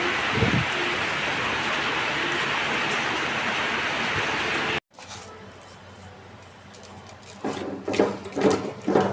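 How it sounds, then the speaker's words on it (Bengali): Heavy rain driven by wind pours down as a loud, dense, steady hiss for about five seconds, then cuts to a quieter stretch with scattered drips and thumps that grow busier toward the end. "তুমি দেখবে ঝুম বৃষ্টি বাতাস"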